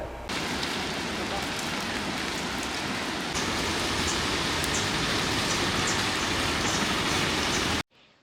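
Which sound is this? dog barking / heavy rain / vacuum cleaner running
heavy rain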